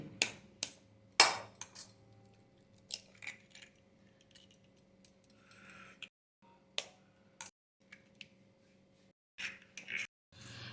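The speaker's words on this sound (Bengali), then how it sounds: "একটা পাত্র নিয়েছি, তাতে দুটো ডিম ফাটিয়ে নিচ্ছি" Two eggs are cracked into a bowl, a handful of sharp, separate taps and clicks of shell against the rim, scattered across the stretch with quiet gaps between them, close by and fairly faint.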